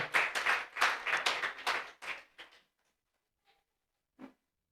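A church congregation claps in a burst of quick, close, loud clapping that fades out, followed by two faint isolated knocks after a pause.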